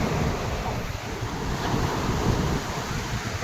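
Sea waves wash against the shore at Somnath, a continuous rushing surf heard close by, with gusty wind buffeting the microphone throughout.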